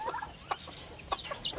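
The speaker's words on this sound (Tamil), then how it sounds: "இதெல்லாம் கோழிங்க." Caged chickens cluck in short bursts, several birds close by with quick scattered calls and no talk.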